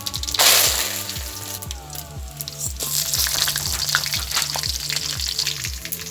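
Mustard seeds, fenugreek, cumin and curry leaves sizzle in hot oil for a Jaffna prawn curry, a loud burst as they hit the pan, then continuous crackling with faint spatter and stirring.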